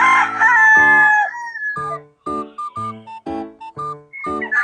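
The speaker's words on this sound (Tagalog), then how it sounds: "Ito yung mga manok, puro Gilmore." Gilmore gamefowl roosters at a gamefowl farm crowing loudly nearby, one long cock-a-doodle-doo followed by a run of short, clipped crows and calls in quick succession.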